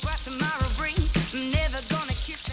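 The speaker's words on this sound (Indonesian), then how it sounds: "Pertama kita goreng dulu nih ayam yang udah dilumuri dengan bumbu ke dalam minyak panas sambil diaduk-aduk biar" Chicken coated in spice paste frying in hot oil and being stirred, giving a steady crackling sizzle throughout, with a melodic tune playing over it.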